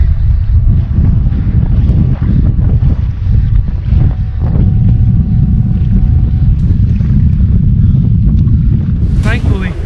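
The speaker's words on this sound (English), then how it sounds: "Thankfully, the wind's blowing in my favor." Strong wind roars steadily over a kayak on the Detroit River, a loud continuous low rush buffeting the microphone throughout, with splashy water noise mixed in.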